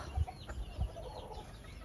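A rooster in a breeding flock gives a few low clucks, two stronger ones standing out against quiet farmyard background.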